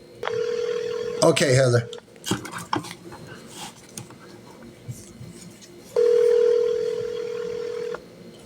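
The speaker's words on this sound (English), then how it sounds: "Let me attempt to call this guy again." An outgoing phone call to a contractor: a steady dial tone, then a quick burst of keypad dialing tones, a second long tone, and someone speaking briefly in between.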